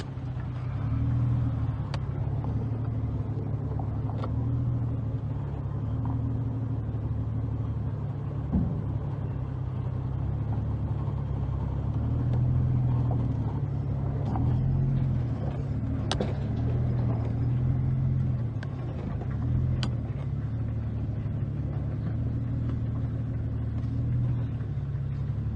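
A Jeep engine idles in a steady, low rumble as it eases a Ford Bronco II off a trailer, nearby and unhurried with a few light clanks over the drone.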